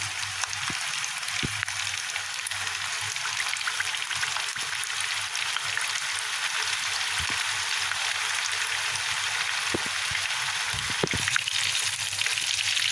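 Chapli kabab frying in a pan over a low flame, a dense, even sizzle with steady crackle and occasional pops, close and continuous, with no talking.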